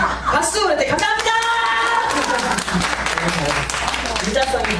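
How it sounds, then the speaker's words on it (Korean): A crowd claps in sustained applause at a senior fitness instructor training event, with voices and laughter mixed in over the clapping throughout. "박수!"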